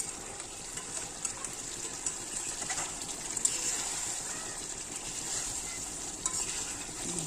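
A small amount of meat cooks in a pan with a faint, steady sizzle and occasional light stirring clicks, quiet and continuous throughout.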